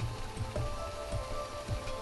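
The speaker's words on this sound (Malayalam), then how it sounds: "അതിശീഘ്രം ചലിക്കുന്ന ജലചക്രങ്ങളിൽ ഉരുണ്ടുമറിഞ്ഞ് ചിതറി വീഴുന്ന മുത്തുമണികളിൽ" Paddle wheel aerators churning and splashing water at an inland fish farm, a steady rain-like patter with rhythmic sloshing pulses, continuous and moderately close with no voices.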